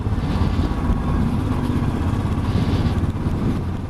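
A 2019 Royal Enfield Classic Bullet 500 Trials/Scrambler runs at low speed, giving a steady, close, throbbing engine rumble with no break for the whole stretch.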